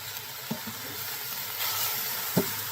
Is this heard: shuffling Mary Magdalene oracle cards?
no